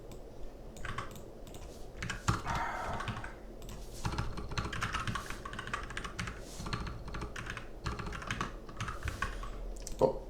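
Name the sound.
typing on a computer keyboard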